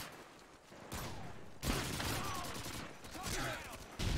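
Gunfire in the Modern Warfare 2 video game, bursts of rapid shots that come and go in loud stretches over a quieter gap, with no voices in the mix.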